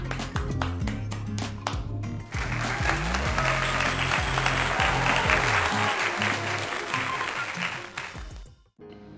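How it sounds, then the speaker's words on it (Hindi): A dense burst of clapping from a speaker joining in applause rises over steady background music, holding for several seconds before stopping abruptly while the music continues. "so clap with me"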